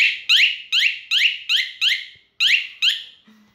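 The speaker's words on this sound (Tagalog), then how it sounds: "Electric horn. Actually, para sa pang-bike." Electric bicycle horn sounding loud and close: eight sharp, chirping siren-like bursts in a quick, even rhythm, then a faint low tone at the end.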